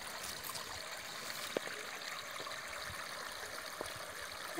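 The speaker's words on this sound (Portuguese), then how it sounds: "Vem, Blue, tem uma nascente aqui e o barulhinho da água?" Water trickles from a small spring on a farm, a steady soft babbling flow with faint splashes, continuous and fairly quiet with no one talking.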